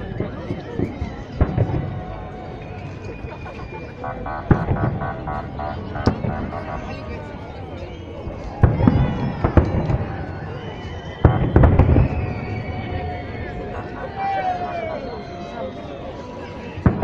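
Victory Day salute fireworks over a riverbank in Omsk burst in repeated booms and crackles at a distance, with crowd chatter and nearby voices talking between the explosions.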